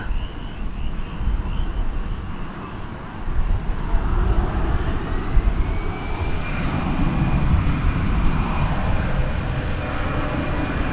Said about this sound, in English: So about to come into view is the American Dreamliner